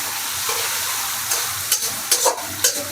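Loud sizzling of vegetable noodles in a large wok with several sharp scrapes of a spatula stirring the food, no voices.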